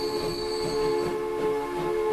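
Train wheels squeal in the railway game Transport Fever, a loud sustained metallic screech with ringing high tones over a rumbling rolling train.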